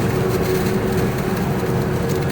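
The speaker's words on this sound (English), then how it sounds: "A tractor." A tractor's heavy engine drones loudly and steadily nearby, a continuous low rumble with a faint tonal hum and no talking.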